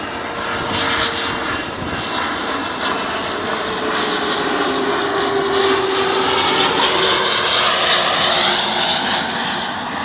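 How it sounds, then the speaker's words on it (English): An Embraer Phenom 300E business jet passes at Dulles airport, a loud sustained engine roar with a whine that slowly shifts in pitch as it goes by, steady and unbroken with no voices. "Now here comes the Phenom 300E from Milwaukee."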